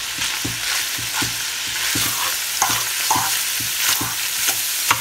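Ham frying in a pan for Haitian macaroni au gratin, stirred with a utensil: a continuous hissing sizzle with regular scraping knocks against the pan, close and fairly loud, no voices.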